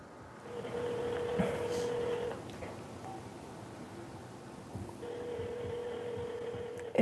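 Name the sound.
telephone ringing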